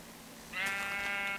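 A sheep bleats once in a video game, a single wavering, nasal call of about a second rising clearly above a quiet background hum.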